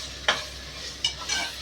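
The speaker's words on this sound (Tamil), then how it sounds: "அரைச்ச மசாலாவை போட்டாச்சு" Ground masala sautéed in a pan gives a soft sizzle, broken by two quick scraping strokes of a spoon and a longer stir near the end.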